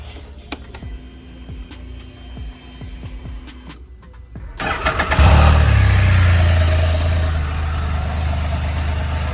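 A 2021 Can-Am Spyder F3 S Special three-wheeled motorcycle engine cranks over after some quiet clicks and handling noises, catches and fires up at once, then settles into a loud, steady, close idle rumble with no talking.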